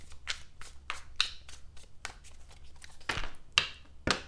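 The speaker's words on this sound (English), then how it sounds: "One more shuffle." Tarot cards shuffled repeatedly up close, a series of quick riffling bursts with brief pauses between, the last few louder.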